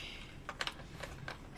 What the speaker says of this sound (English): I'm killing my keyboard.